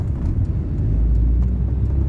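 A one-owner Austin Maestro car idles with its engine running, a steady low rumble heard close and alone, with no talking.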